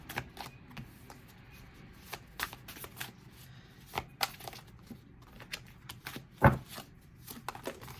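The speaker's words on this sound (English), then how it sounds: "Cards feel like a little difficult to handle. They feel a little clumsy" Light Seers Tarot cards being shuffled and handled, a run of soft papery riffles and flicks with one sharper snap near the end, close and quiet with no voices.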